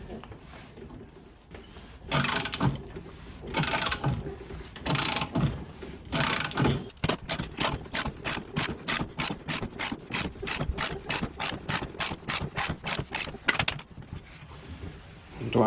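A ratchet socket wrench works on leaf spring bushing bolts of a classic Chevy, starting with a few slow heavy clicks and then a fast, even run of ratchet clicks close by before a pause.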